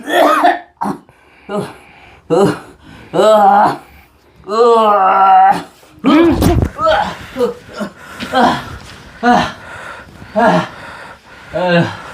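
Several harsh coughs and throat-clearing sounds burst out between stretches of nearby talking and a few gasps.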